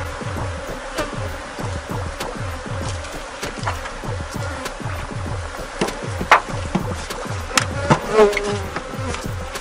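Dense buzzing of honey bees around frames from a beehive, a continuous close drone with wing hum rising and falling, plus occasional handling knocks and no talking.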